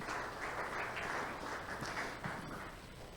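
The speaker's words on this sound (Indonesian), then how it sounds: "Tepuk tangan buat Tuhan Yesus." A church congregation at a Sunday worship service claps together in a steady, even wash of applause that carries on throughout without any speech.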